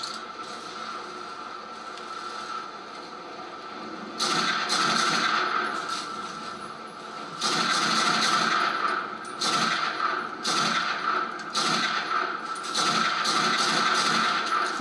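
Gunfire aimed at the player in the video game The Darkness 2, loud repeated bursts of shots starting a few seconds in and returning in clustered volleys over a steady mechanical hum.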